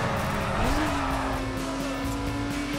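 A car in the racing game The Crew drives on with a loud, steady engine drone, a rising engine tone settling into a sustained pitch, while tires hiss and squeal against the road throughout.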